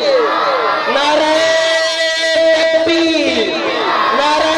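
A large gathered crowd at a religious gathering in Kabirwala shouts responses to slogans in loud sustained swells. A strong chanting voice leads and the voices overlap near and full.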